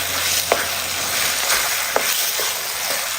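A ground paste sizzles and fries in a hot pan with a loud, continuous hiss, while a few faint taps of stirring come through close by and no one speaks.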